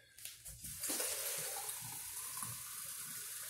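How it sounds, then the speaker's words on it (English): Water being poured into a lasagna baking dish in a home kitchen: a steady, close hissing stream that starts after a couple of soft knocks and keeps running evenly to the end, with no voices. "now you gotta put water inside"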